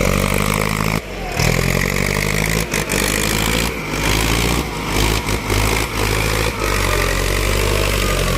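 A 1997 Ford 6640 tractor engine with its original exhaust runs steadily at close range, its deep throbbing exhaust loud and continuous, with a few brief dips in the rumble.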